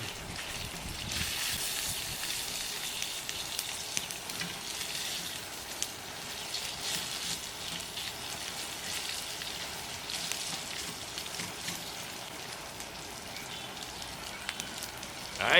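A pot at a steady rolling boil on a stove, a continuous bubbling and sizzling hiss, fairly close and even throughout with no talk.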